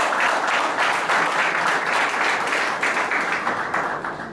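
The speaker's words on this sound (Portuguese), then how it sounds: "uma salva de palmas para vocês." An audience at a business presentation in Porto Alegre claps in steady, sustained applause that tapers slightly toward the end.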